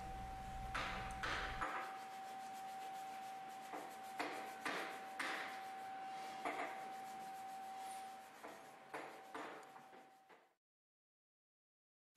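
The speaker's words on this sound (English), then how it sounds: "As a finishing touch, a short blade is used to scrape away excess material." A short blade scraping excess material off hand-carved wood on Chinese furniture, repeated rasping strokes in an irregular rhythm, close and fairly quiet, with a steady tone under it, ending in silence.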